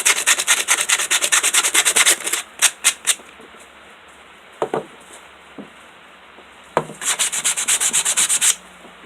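Rapid back-and-forth strokes of sandpaper on wooden paint sticks for a DIY crate, loud bursts of rhythmic rubbing at the start and end with a few isolated scrapes in the quieter middle.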